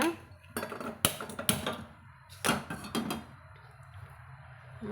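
A cooking pan is set on a stove in a home kitchen while making spinach stir-fry, giving a few close metallic clanks and clinks in short bursts with quiet gaps between.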